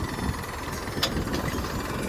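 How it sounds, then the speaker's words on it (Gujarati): A tractor engine runs steadily at idle, a low continuous rumble with slight knocking throughout, fairly close and unbroken. "ઈ ચાલુ કરી દીધા ટ્રેક્ટર વાળાએ."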